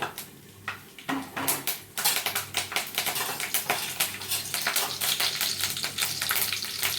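Curry leaves crackle and sizzle in hot oil in a home kitchen, a dense, steady run of sharp close pops and spatters over continuous frying hiss.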